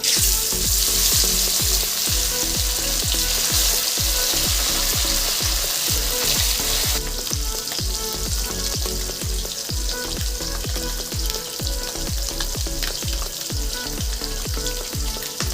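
Pieces of fish fry in hot oil sprinkled with a little salt in a pan, a loud, steady sizzle with repeated rhythmic crackling pops throughout, and no voices.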